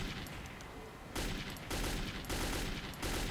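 In the Metro 2033 video game, the NPC Khan fires a gun in a dense, continuous stream of rapid shots, loud and close, with the firing picking up in intensity partway through.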